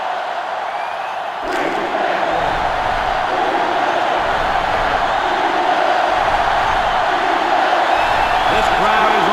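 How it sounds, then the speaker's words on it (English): A packed stadium crowd roaring during a college football game between Ohio State and Georgia in NCAA Football 2005, a loud continuous wall of cheering and yelling that swells after a brief moment, with an announcer talking over it. "This crowd is almost shaking the stadium"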